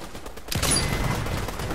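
Gunfire in a video game is aimed at the player, starting as a sudden sharp burst about halfway through and then a rough, sustained rattle of shots close by.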